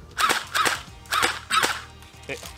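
An airsoft Tommy gun fires five sharp snapping shots in pairs and singles, close and crisp with brief mechanical clatter between them.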